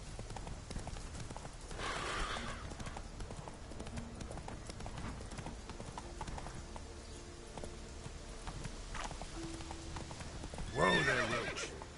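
The horse Roach from The Witcher 3 neighs and gallops in-game, with hoof clip-clops beating steadily over a faint background, a whinny near the start and a louder neigh toward the end.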